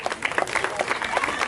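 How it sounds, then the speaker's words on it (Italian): A crowd at a seaside bar applauds as a singer is introduced, a brisk burst of many hands clapping with some cheering voices mixed in. "Un applauso!"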